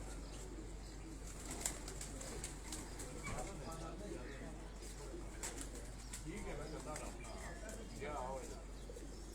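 Pigeons at a pigeon fancier's home in Lahore coo softly in repeated low rounded calls, fairly faint against a background hum and chirps, with people talking nearby.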